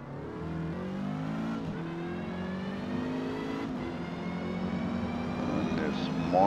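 A Renault 8 Gordini and the rest of the D-class field pulling away at the race start at Maple Valley in Forza Motorsport: layered engine drones climb steadily in pitch as the cars accelerate together, loud and continuous.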